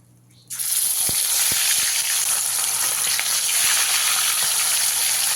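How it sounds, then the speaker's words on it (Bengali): Katla fish pieces frying in hot oil over a medium flame, a loud, steady hiss and crackle that bursts in abruptly after a quiet moment and holds evenly, with a few faint clinks beneath. "মেশানো হয়ে গেলে একে একে মাছগুলো দিয়ে আমি এবার ভেজে নেব"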